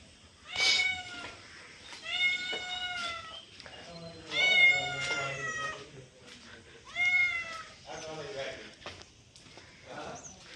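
Cats on a cattle farm meow repeatedly, with loud, drawn-out cries coming in bursts every couple of seconds, close by, alongside a person talking during a midday rain.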